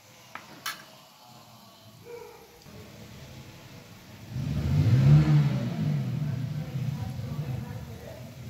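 Bread pakora potato balls slid one by one into hot oil for deep frying, quiet clinks first, then a swelling bubbling sizzle that stays loud and steady.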